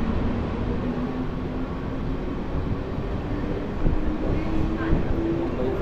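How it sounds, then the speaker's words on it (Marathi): A Mumbai suburban passenger train heading toward Malad rumbles steadily as it rides along, a continuous low rolling drone with a faint tonal hum, fairly close and without a break. "आपण पकडतो ही 6:26ची ट्रेन आहे."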